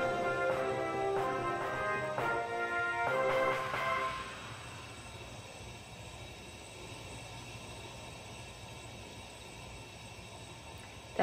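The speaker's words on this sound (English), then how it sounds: "That noise is the water heater, because my husband is taking a bath again." A water heater runs while someone bathes, giving a steady broadband hiss and rumble that is louder with tonal ringing for the first four seconds, then settles into a quieter, even drone.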